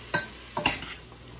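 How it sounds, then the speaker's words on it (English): Mushrooms cook with other vegetables in a pan, with two quick scraping stirs of a utensil over a soft, faint sizzle. "Mushrooms, let them cook with the other vegetables."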